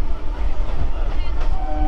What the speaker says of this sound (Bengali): আমরা হচ্ছে এখন যাদবপুর রেলওয়ে স্টেশন পার হচ্ছি